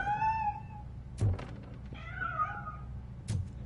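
A cat in the RoboCop: Rogue City video game meows twice, clearly and at close range, and a couple of dull thunks land between and after the calls.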